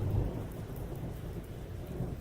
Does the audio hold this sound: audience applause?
no